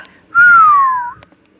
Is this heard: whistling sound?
yes